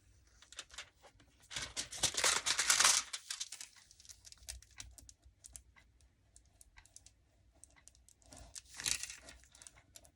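Paper envelope being cut by hand for a junk journal pocket, giving close, crisp snips and rustling crinkles in two busy bursts with quieter handling between, no talking.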